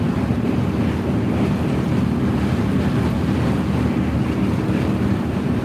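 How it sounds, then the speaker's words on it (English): Steady, loud wind buffeting a driving vehicle on a very windy day on the road in Missouri, a continuous broadband roar with no pauses or voices. "The only wind noise we're hearing is because it's very windy out today."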